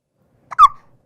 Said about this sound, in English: She's hiccupy.